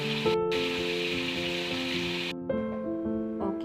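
Steady sizzling of chicken frying in hot oil, close and continuous, with a tonal hum running underneath and no talking.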